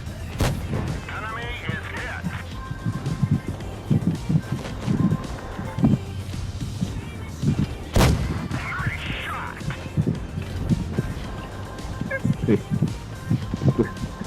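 Tank cannon fire in the World of Tanks Blitz video game: two sharp, booming shots, one near the start and one midway, with rumbling battle noise beneath while players talk excitedly throughout.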